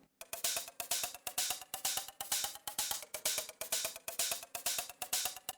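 Rising percussion loop from an electronic dance music drop, a rapid, evenly spaced run of bright, crisp hits that repeat in short swelling phrases, loud and alone with no voices.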